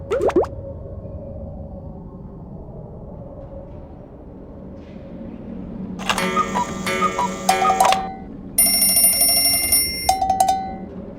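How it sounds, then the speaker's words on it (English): An electronic alarm clock in the PC game Thomas Saves the Day rings in two bright, buzzing bursts after a quieter stretch of soft ticking and low ambience. "It's only an alarm clock and a cowbell."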